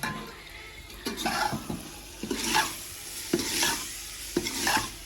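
Turnips and peas frying in a pan in a village kitchen, a spoon stirring and scraping in repeated strokes while the food sizzles steadily, close up with no talking.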